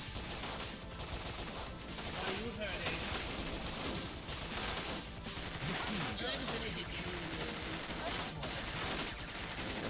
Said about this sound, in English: Just keep shooting, just keep shooting.